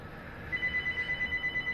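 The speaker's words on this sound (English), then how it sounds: "Oh, telephone's ringing." A telephone rings with a steady repeating electronic trill, fairly faint, starting partway through over a low background hum.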